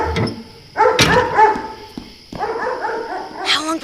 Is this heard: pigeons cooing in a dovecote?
no